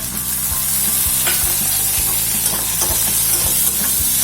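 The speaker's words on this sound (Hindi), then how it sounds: "इसको थोड़ा अच्छे से फ्राई करेंगे प्याज के साथ।" Crushed ginger and garlic frying with onion in a pan, a loud, continuous sizzle broken by regular scraping strokes of a spoon stirring every half second or so, heard close and without talk.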